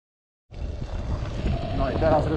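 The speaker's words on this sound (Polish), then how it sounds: "Pewnie nic nie słyszycie, bo tak wieje" Strong wind buffeting the microphone during outdoor cyclocross training in Sławno, a loud continuous rumbling roar that starts abruptly and persists to the end.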